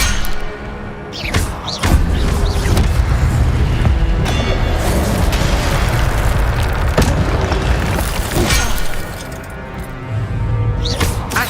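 Fire spell effects in the video game Hogwarts Legacy, loud booming, crashing impacts over a dense, continuous roar of in-game action with no pauses.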